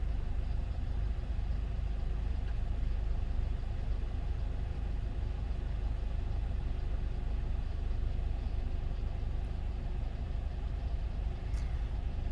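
Steady engine hum and road rumble from inside a driving-school car heading through an intersection into an acceleration lane, a continuous low drone with little change, quiet and even, no speech.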